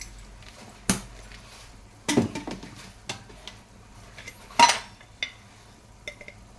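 A spoon stirring and mixing dal with masala and garam masala in a metal pan, giving scattered clinks and scrapes, some sharp and close, with quiet gaps between them.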